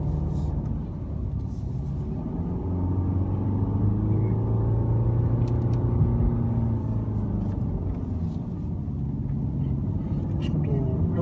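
Mercedes-Benz C220d diesel car cruising at a steady 2000 rpm in light sporty driving, a continuous low engine drone and road rumble heard from inside the cabin with a slight rise in pitch midway.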